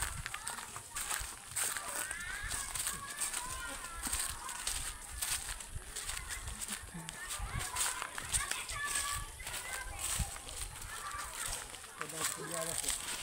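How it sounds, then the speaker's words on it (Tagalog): Children play noisily at a rural school, with a steady clamor of shouting and chatter mixed with bird honks and clucks throughout, and people talking nearby. "May school din daw maingay mga bata."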